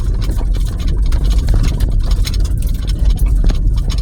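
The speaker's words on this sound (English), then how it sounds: "Now, if you can't totally tell, this is gravel right now." A car rolls slowly along a bumpy gravel road, a steady low engine rumble mixed with continuous crunching and rattling from the tyres, close and fairly loud with no talking.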